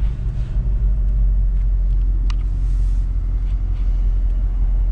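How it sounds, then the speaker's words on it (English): The engine of a 1955 Pontiac wagon idles smoothly in a steady, loud low rumble that holds constant throughout, with no speech. "Car idles super smooth"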